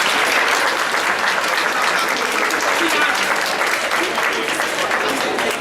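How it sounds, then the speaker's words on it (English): A room full of people at an athletic awards banquet claps steadily and loudly throughout, dense continuous applause with no break. "give yourself a round of applause"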